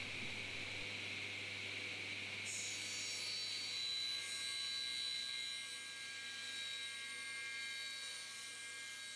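A power saw runs continuously while cutting wood for a hand-tool caddy build, producing a steady, high, faint whine that shifts brighter partway through, with no talking.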